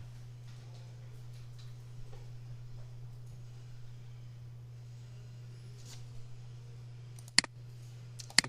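Mouse clicks in Mastercam 2024 2D CAM software, two or three sharp, close clicks late in an otherwise quiet stretch over a steady low electrical hum.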